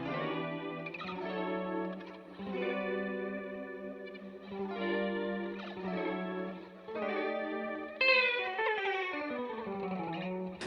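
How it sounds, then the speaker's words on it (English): An electric guitar played with pick and fingers through a Line 6 Helix neo soul tone, with chorus and slight grit, rakes across the strings in strummed chord bursts with sliding notes and short gaps. "if you do this kind of raking thing"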